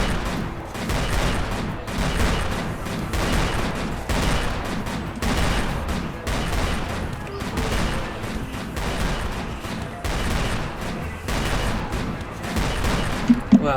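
Continuous gunfire in a video game as skeletons are shot, a dense rolling fusillade of rapid repeated shots with rhythmic bursts and booms, loud and sustained throughout.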